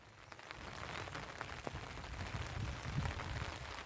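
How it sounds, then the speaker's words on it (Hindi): Heavy downpour drenching a hillside village, a steady dense hiss of rain on rooftops with scattered drop impacts, constant and enveloping with no voices. "ये देखिए पूरे गांव का नज़ारा, बिल्कुल झमाझम बारिश हो रही है।"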